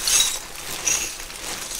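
A glass build plate for a 3D printer, still in its packaging bag, clinks and rattles softly in bright, brittle bursts, heard close and on its own.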